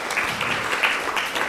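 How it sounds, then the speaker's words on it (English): Steady applause from a temple gathering, a continuous wash of many clapping hands with small rhythmic swells, moderately loud throughout the short burst. "please give them a big round of applause"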